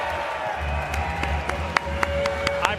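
Fans applaud and cheer at an esports watch party for an LA Thieves versus Vancouver Surge Call of Duty Major match, a steady crowd roar with sharp claps and whoops rising over the noise.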